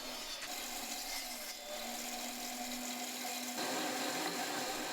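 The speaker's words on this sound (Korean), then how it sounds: "이 장치는 비전력 페달 원형 톱으로 운동을 하듯 자전거 페달을 돌리기만 해도 전기톱과 다름없는 성능을 자랑합니다" A pedal-driven, non-electric circular saw mounted in the middle of a wide board cuts through wood. It makes a steady, bright whirring buzz with a constant drone, and it gets slightly louder near the end. No one speaks.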